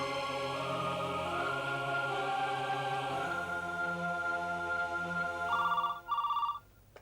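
A telephone rings steadily on a call in an Indian TV serial, then gives two short, louder tone bursts before cutting off. No one speaks over it.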